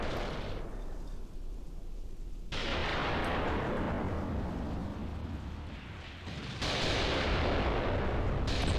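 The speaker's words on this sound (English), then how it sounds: "There's our artillery coming in here now." Artillery barrage in the tactical war game Graviteam Tactics: repeated heavy booms and rolling blasts, a few at a distance, merge into a continuous thundering rumble that swells louder in bursts.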